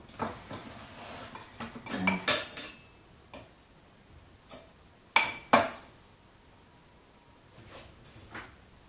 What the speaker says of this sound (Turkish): Daha sonra bulaşık makinesini boşaltır.